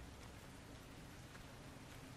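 Rain falls in the video game Resident Evil Revelations 2, a steady, faint, even hiss of downpour that continues without a break.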